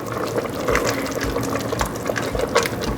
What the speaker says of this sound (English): Now that it's come up to a boil, add your slurry